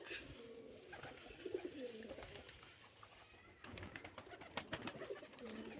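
Pet pigeons cooing softly nearby, several low throaty coos repeating through a quiet background with some faint rustling and movement.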